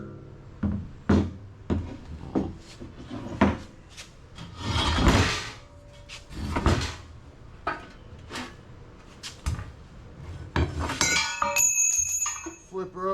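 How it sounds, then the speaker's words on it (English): A long pry bar worked against a wheel's outer rim, giving a run of sharp metallic clanks, scrapes and knocks at uneven intervals, close and fairly loud, with a longer grinding scrape midway and ringing clinks near the end. "take the long pry bar or something. You've got to get that outer rim to pop."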